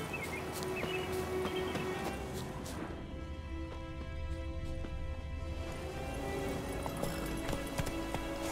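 Horse hooves clip-clopping at a run in The Witcher 3, a steady rhythmic gait beneath continuous game music and ambience, with no voices.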